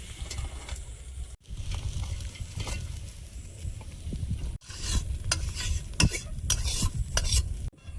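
Egg chicken chow mein stir-fried in a pan with onions and chow mein masala, a steady close sizzle with repeated scraping and tossing of the spatula, briefly cut by edits, no talking.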